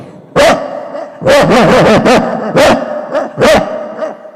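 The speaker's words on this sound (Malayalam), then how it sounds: "അപ്പോൾ ഈ നായ്ക്കൾ കുരയ്ക്കുന്നതിന് ഒരു പ്രത്യേക ശബ്ദങ്ങളുണ്ട് ശബ്ദ വ്യത്യാസങ്ങളുണ്ടാവും" Several loud, close dog barks in quick bursts, a single bark followed by a rapid cluster, then two more spaced barks.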